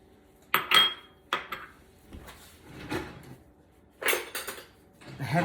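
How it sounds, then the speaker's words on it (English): A spoon clanks against a pot while stirring potato soup: several separate metallic knocks and scrapes, close and fairly sharp, with quiet pauses between them. "Let me stir this up"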